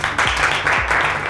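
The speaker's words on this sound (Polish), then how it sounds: "Wielkie brawa" A conference audience applauds a presenter coming on stage, a dense, steady, close wash of clapping that lasts only a moment, with a voice briefly audible underneath.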